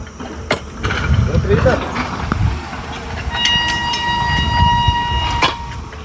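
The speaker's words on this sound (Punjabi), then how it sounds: "ਟ੍ਰੇਨ ਪਹੁੰਚ ਰਹੀ ਹੈ ਇਸ ਲਾਈਨ ਤੇ" A train arrives on a railway line where rail traffic has just resumed after a halt, rumbling nearby with a sustained tonal horn or whistle near the end, while people talk over it.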